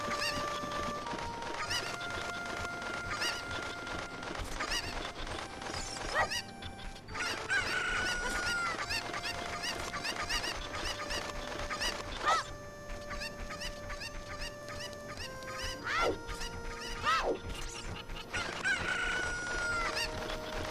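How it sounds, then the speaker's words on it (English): Video game chickens and roosters in Ocarina of Time: repeated clucks with several loud, drawn-out crows in the foreground, over a steady background bed. "I think these would be roosters, not chickens, but whatever"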